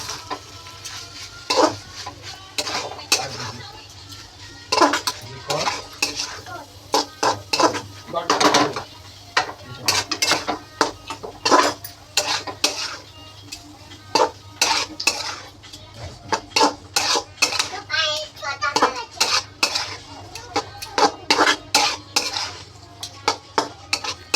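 Noodle momo filling sautéed in a pan with coriander, a spoon scraping and clattering against the metal in a steady run of sharp knocks over a faint sizzle, close and fairly loud.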